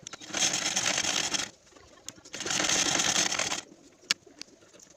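A sewing machine stitches the neck side of a princess-cut blouse in two steady bursts of fast whirring, close and loud, with a quiet pause and a sharp click between them.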